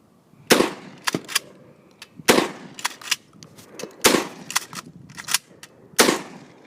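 A Kel-Tec KSG pump shotgun fires repeatedly outdoors: loud, sharp blasts spaced about a second or two apart, each followed by quick metallic clacks of the pump action cycling, close and without talk.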